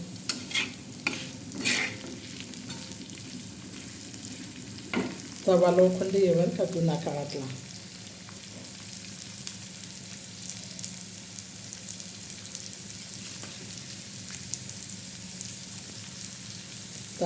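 Onion and dried shrimp frying in an old cast-iron pan, a soft steady sizzle with a brief burst of stirring and scraping midway, someone speaking briefly near the start over the frying.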